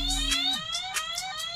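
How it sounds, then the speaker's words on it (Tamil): Zomato delivery app new-order alert on a phone, a repeating electronic alarm tone pulsing in quick, even beeps with bright high harmonics after a low hum cuts off, fairly close and alone without talk. "இப்போ வந்து இங்கே அலாரம் மாதிரி அடிக்கிறது பார்த்தீங்களா"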